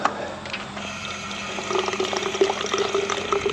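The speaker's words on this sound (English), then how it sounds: "let's fill up my water bottle" Water runs from a park tap into a water bottle, a steady close stream with a faint rising fill tone that lasts a few seconds.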